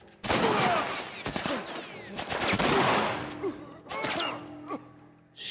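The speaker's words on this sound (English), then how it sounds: "Alright, shotgun. Shotgun it is." Loud shotgun blasts and rapid bursts of gunfire from a firefight in the video game The Last of Us come close together, with brief pauses between the volleys and some gasping breaths from a player.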